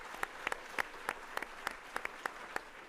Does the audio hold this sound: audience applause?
yes